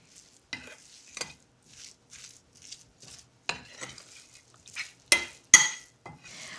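Fish kebab cooking in a pan, soft squishy stirring and light sizzle with scattered clinks of a utensil against the pan, close and quiet in short bursts.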